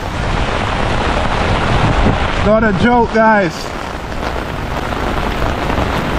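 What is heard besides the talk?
heavy rain in Colombo, Sri Lanka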